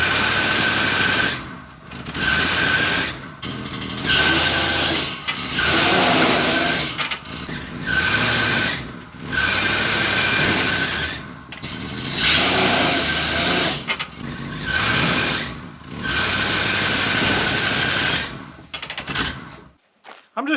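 A Chevy cube van with a sticking front tire and corroded brake rotors rolls along, giving off repeated loud, harsh squealing scrapes in a regular rhythm with short gaps between them.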